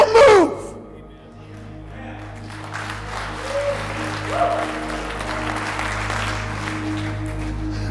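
Scattered clapping from a church congregation during a sermon, rising after a loud opening burst of voice and continuing as a moderate, uneven patter of claps with faint murmuring in the room.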